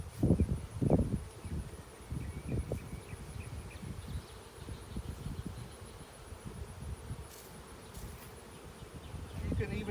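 Honey bees buzz around an opened hive as a beekeeper sweeps them with a feather, a close droning hum with swelling bursts and faint rustling.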